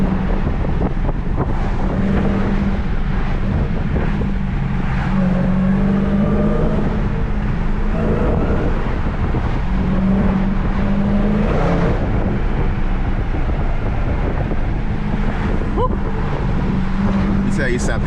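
A 2020 Dodge Charger Daytona Hellcat wide-body being driven hard up mountain roads, its engine a loud, steady roar with wind buffeting throughout and some rises in revs, while a person talks over it.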